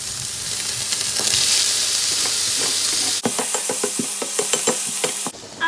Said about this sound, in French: Je rajoute un peu d'huile pour venir faire dorer mes champignons.